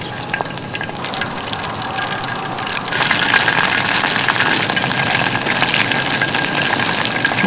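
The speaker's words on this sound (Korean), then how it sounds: "한꺼번에 다 넣어서" Battered shrimp, scored after a first fry, crackle in deep hot oil at a campsite. A moderate sizzle jumps to a louder, fuller frying hiss about three seconds in as the whole batch goes in at once, and it holds steady with no voices.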